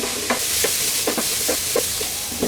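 A spatula scrapes and stirs scrambled eggs into chicken fried rice in a pan, with soft sizzling beneath a series of close, irregular scraping strokes.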